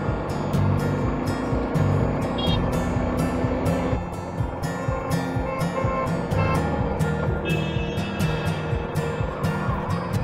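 A motorbike rides along the old Mumbai–Pune highway toward Lonavala. Its engine drones steadily beneath heavy rushing wind roar, with a brief dip midway, and the sound stays loud and close throughout.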